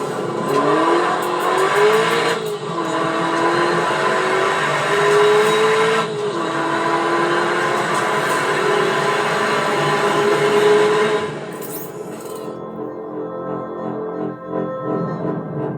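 Ford Mustang GTD racing two Ford GTs on a track, engines roaring loud and close with rising and falling revs and gear shifts, then dropping to a quieter, more distant drone near the end.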